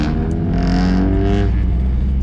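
Loud modified Honda Integra and Civic EG with Buddy Club exhaust setups driving close by, a steady deep engine drone with rising and falling rev tones, no talk.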